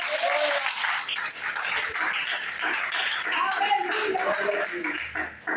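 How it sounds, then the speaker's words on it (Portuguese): A church congregation claps hard for Jesus during a sermon, a dense, continuous wash of many hands clapping at fairly close range that holds steady throughout. "aplauda Jesus bem forte"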